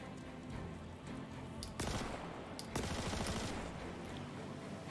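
Kastak Arms Custodian SMG firing in burst mode in the game Star Citizen: two sharp, loud rattling bursts break over a steady background hum, the second burst longer than the first.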